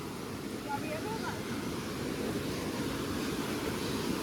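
Steady roaring wash of a waterfall during monsoon in the Malshej Ghat area of Maharashtra, continuous broadband rush at moderate level with wind buffeting, no clear speech.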